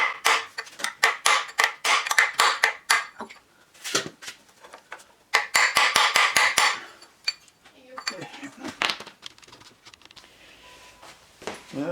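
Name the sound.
hammering to pop out a core plug on a 2009 Mini Cooper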